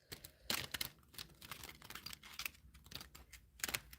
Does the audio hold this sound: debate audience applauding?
no